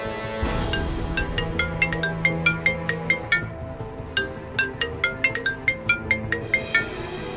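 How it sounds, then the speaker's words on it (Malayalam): A phone ringtone for an incoming call plays alone, a steady run of bright, repeating electronic chimes in a quick, even rhythm that stays close and clear for several seconds. "ആര്യന്റെ ഫോണിലേക്ക് ഒരു കോൾ വരുന്നു"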